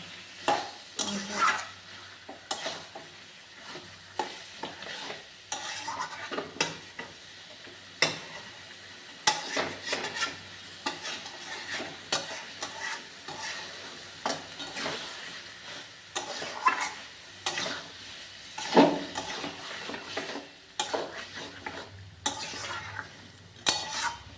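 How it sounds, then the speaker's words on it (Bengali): Meat cooks down in a pan with steady sizzling as a spoon scrapes and stirs it again and again, the utensil knocking against the metal in an uneven rhythm, close and fairly loud with no talking. "মাংসটা যত কষানো হবে তত ভালো স্বাদ হবে।"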